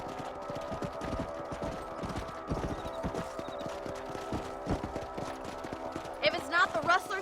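A horse galloping in the video game Red Dead Redemption, with rapid rhythmic hoofbeats running steadily, joined near the end by louder clattering, and someone talking over it.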